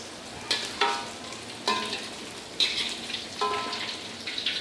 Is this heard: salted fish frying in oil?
yes